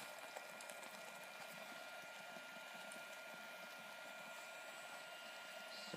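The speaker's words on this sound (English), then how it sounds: "my food is bubbling and steaming." Food bubbling in a pot on a Biolite camp stove over a twig fire, a steady soft hiss and simmer that stays faint and even throughout, with no voices.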